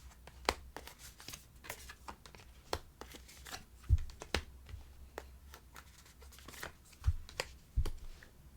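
Tarot advice cards being shuffled by hand, a steady run of crisp riffling clicks and slaps with a few sharper thumps, close and fairly quiet, no talking.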